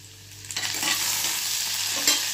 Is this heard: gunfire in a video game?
no